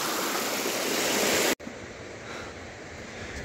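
Mountain stream rushing through forest near Rohtang Pass, Manali, in cold weather: a loud, steady broadband water roar that drops out abruptly for an instant midway, then resumes slightly softer, with no voices.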